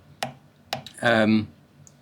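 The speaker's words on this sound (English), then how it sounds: "as soon as that's ready, you're going to punch it down and it's just going to click under" A gemstone clicks into a claw prong setting as it is punched down: two sharp, close taps in quick succession, followed by a brief voice.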